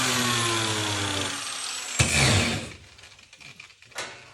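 A power tool whirs loudly and steadily for nearly two seconds, dies away, then a couple of short bursts follow as it smooths the rough drilled edges of a hole in a piece of pipe.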